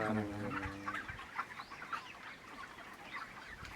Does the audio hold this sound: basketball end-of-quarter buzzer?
no